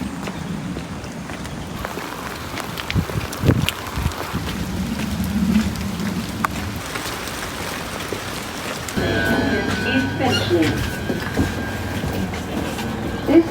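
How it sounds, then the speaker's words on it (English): A London Underground Northern Line train rumbles past, a low rolling roar and clatter of wheels that swells, eases, then builds again with a brighter screech toward the end. "This is a Northern Line train."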